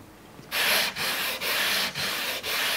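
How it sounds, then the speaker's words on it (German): A luthier rubs a specially shaped sanding block along the fretboard of an electric guitar to give it its curve. The close, dry sanding strokes come in a steady rhythm of about five passes with short pauses between them. "Mit einem speziell geformten Schleifklotz gibt der Gitarrenbauer dem Griffbrett die gewünschte Wölbung."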